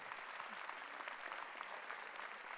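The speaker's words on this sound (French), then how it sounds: "les applaudissements de la salle pour vous encourager" A hall audience at a graduation ceremony applauds to encourage a graduate, a soft but continuous spread of many hands clapping at a distance.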